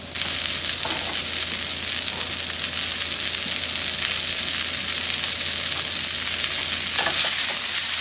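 Carrots fry in a hot pot with a steady, loud sizzle that runs throughout, with occasional stirring scrapes and no voices.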